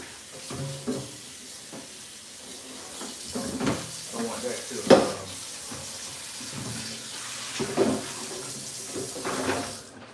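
Kitchen tap water runs while a pot is rinsed, a steady wash with clinks and bumps of cookware, heard under a speaking voice.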